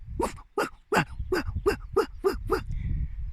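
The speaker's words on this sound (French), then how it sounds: "le chien aboie" Nine sharp dog barks in a steady, evenly spaced series, close and fairly loud, each a short bow-wow with a quick tail, ending in a faint whine.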